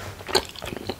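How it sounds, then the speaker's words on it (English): Mini bubble gum balls being bitten and chewed up close, giving a quick series of crisp crunches and wet clicks over about a second with no talking. "Today I go eat a bubble gum."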